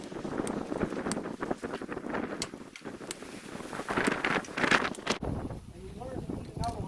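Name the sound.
strong wind outdoors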